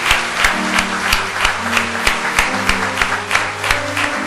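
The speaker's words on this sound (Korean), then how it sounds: "우리 박수하시겠습니다." A church congregation claps together during a worship service, a steady rhythmic beat of hands at roughly two claps per second over a low sustained organ or keyboard tone.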